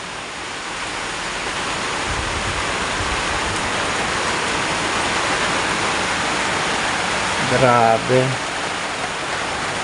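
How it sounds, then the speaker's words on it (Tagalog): Heavy Typhoon Carina downpour with strong wind, a dense, unbroken roar of rain pouring hard and close for the whole stretch, with someone briefly speaking near the end. "Matindi ang buhos ni Karina, almost an hour na yan na ulan, may kasamang hangin na malakas."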